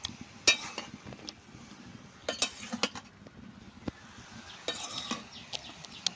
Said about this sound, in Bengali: লবণ দিয়ে মা এখন ডাঁটার শাকটাকে ভালো করে মিশিয়ে নিচ্ছে